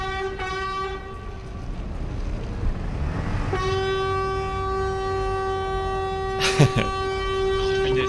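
A loud, sustained multi-tone horn blares on a Paris street, cutting in around the middle and holding steady to the end over traffic rumble, with a brief sharp burst near the close.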